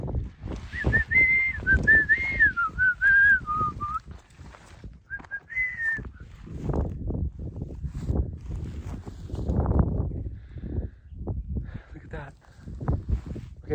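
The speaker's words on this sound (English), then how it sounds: "I'm going to try to whistle so I can scare away any lizards or snakes" A person whistles a wavering, high tune for a few seconds, pauses, then briefly whistles again before footsteps and rustling movement take over outdoors.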